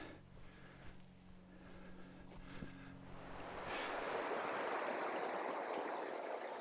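Boxley Creek, a babbling mossy woodland creek, flows as a soft, continuous rushing hiss that grows fuller and closer midway, with some wind noise mixed in.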